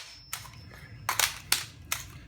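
An FN FAL rifle chambered in .223 with its action locking back, a few sharp metallic clacks and snaps in quick succession, close and fairly loud in a quiet room.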